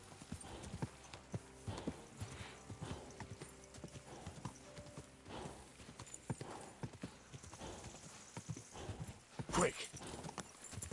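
Horse hooves pound in a rhythmic clip-clop gallop during a ride in the medieval video game Kingdom Come II, with occasional whinnies and game sounds layered over the steady hoofbeats.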